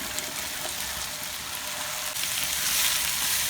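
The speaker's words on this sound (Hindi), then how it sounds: "अब इसमें गोभी डाल देते हैं" Par-boiled cauliflower frying with potatoes and spices such as crushed red chilli and salt in a pan, a steady, loud, hissing sizzle that swells slightly near the end, with no voices.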